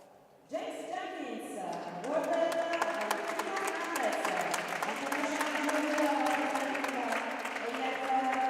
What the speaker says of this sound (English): He's given a round of applause as he approaches